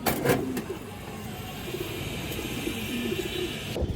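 A pair of pigeons gives soft, repeated low coos, a few short phrases close by over a faint background hum, with a brief louder burst near the end.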